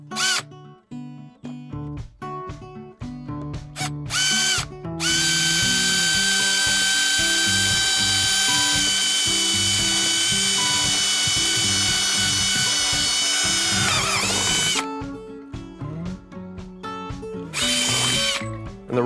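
Power drill boring 3/8-inch holes into a Hobie Mirage Passport 12.0 kayak hull for well nuts, a sustained steady whine lasting about ten seconds, framed by short bursts and ratcheting clicks of the drill before and after.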